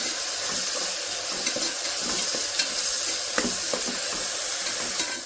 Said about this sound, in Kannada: ಇವಾಗ ಟೊಮೆಟೊ ಆ್ಯಡ್ ಮಾಡ್ತಾ ಇದ್ದೀನಿ ಇದಕ್ಕೆ. ಟೊಮೆಟೊನ 1 ನಿಮಿಷ ಮಿಕ್ಸ್ ಮಾಡಿಕೊಂಡು ಬೇಯಿಸ್ಕೊಳ್ಳೋಣ ಅದ್ರ ಜೊತೆ.